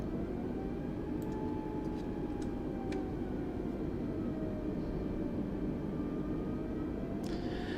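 An Airbus A320 taxiing in Microsoft Flight Simulator 2020, a steady engine roar and whine with slowly shifting tones, constant and unbroken, with a few faint clicks and no talking.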